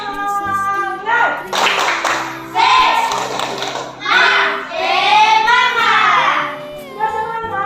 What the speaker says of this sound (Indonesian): Kita tepuk semangat dulu. 1, 2, 3. Tepuk semangat.